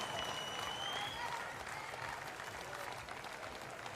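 A crowd applauds a powerlifter at the 2019 Department of Defense Warrior Games after a failed lift. The clapping is steady and moderately distant, fades slightly toward the end, and has faint voices mixed in.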